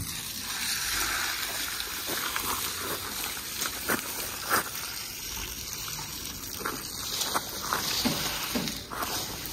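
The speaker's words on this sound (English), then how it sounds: "Now we're going to empty his water." Water pours and splashes out of a fish container in a continuous rushing gush, with a few irregular sloshes and knocks, close up and without talk.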